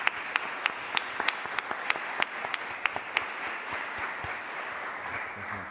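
Scattered applause from an audience at a talk on new laws, a dozen or so distinct sharp claps over a soft wash for the first few seconds, then thinning out into a faint, steady murmur.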